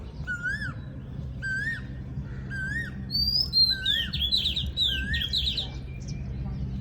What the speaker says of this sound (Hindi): तो ये होती है कोयल की आवाज़